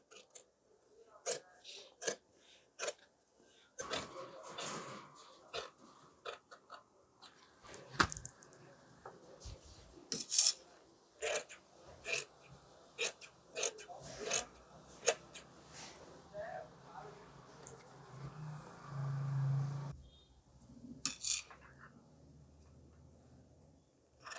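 Scissors snip through fabric while pencil fit pants are being cut, giving scattered crisp clicks and slicing sounds at close range. Soft speech comes in now and then between the cuts.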